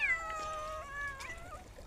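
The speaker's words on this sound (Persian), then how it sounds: "ببین پیشام اومدن" Several cats meow in a long, drawn-out, wavering cry, close and fairly quiet, with no talking over it.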